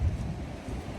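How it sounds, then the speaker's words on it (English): Strong wind buffets a microphone outdoors while walking, a constant low roaring rumble with gusty swells filling the whole moment, no voice present. "Hopefully you can actually hear me over the wind"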